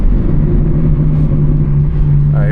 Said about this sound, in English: So it's still doing ignition cut, but the question is it gonna do a little pop